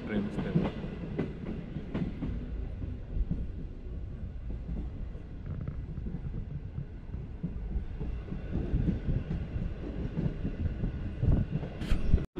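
Green Line train between Karachi and Lahore rolling along in fog, heard from inside as a steady low rumble with faint rhythmic clickety-clack of wheels on rail joints, moderately quiet and continuous.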